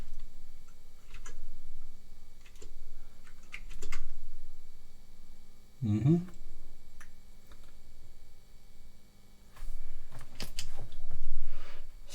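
Keys on a restored Commodore 128 computer are tapped in irregular bursts of crisp, close clicks, with a heavier thump partway through and a rapid cluster of presses near the end.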